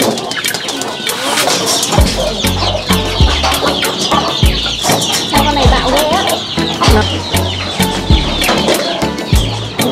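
Chickens cluck and coo steadily in a clean farm coop during the rainy season, a dense, busy flock sound with repeated sharp calls and low thumps running throughout.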